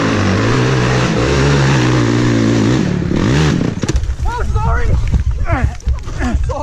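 A quad engine on a forest trail revs with rising, wavering pitch, then breaks into rough, choppy bursts as voices call out over it.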